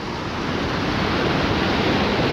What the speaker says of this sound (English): I have to cross a river